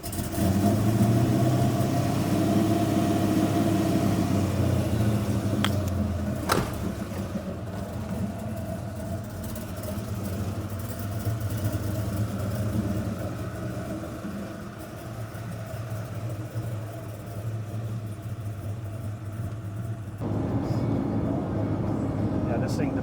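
A fully rotisserie-restored 1970 Chevrolet Nova runs with a loud, deep engine rumble, then a sharp knock, then a steadier, somewhat quieter drone before the roar rises again at the end.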